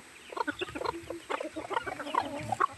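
Several chickens cluck and chatter in quick, irregular bursts nearby at feeding time, a busy overlapping flock sound with no talking.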